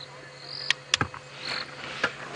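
Several short, sharp calls from frogs at night on a safari drive stand out over a faint, steady insect chirr, a few clicks spaced apart and heard nearby.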